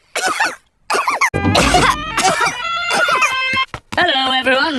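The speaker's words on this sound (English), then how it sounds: "Caught Pedro's cough, have we?" A cartoon character coughs in a series of loud, raspy, hacking bursts with vocal, almost crowing tones, close and prominent as a sound effect.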